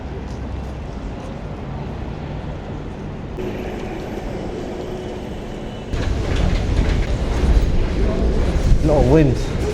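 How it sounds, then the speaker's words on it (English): A train running on rails in London, a steady rumbling roar that grows louder partway through, with people talking over the noise. "A train."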